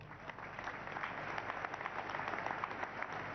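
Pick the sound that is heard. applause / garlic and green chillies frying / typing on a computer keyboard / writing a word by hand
applause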